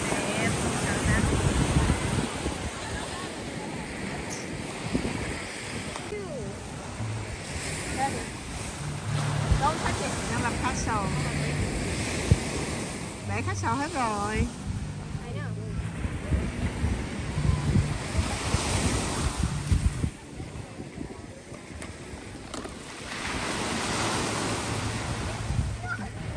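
Ocean surf rolls onto the beach at Coquina Beach, Florida, around sunset: a continuous broad wash of waves with heavy wind buffeting the microphone and faint voices talking in the background.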